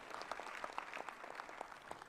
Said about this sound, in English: Let's thank God and clap for them present here.